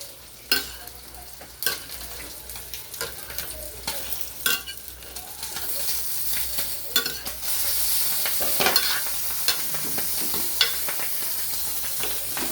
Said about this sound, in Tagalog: Haluin ulit.